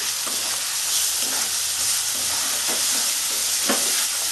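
Spices with turmeric and salt frying in oil for a Bengali-style mutton liver curry: a loud, dense, close hiss of sizzling, with occasional soft scrapes of stirring underneath.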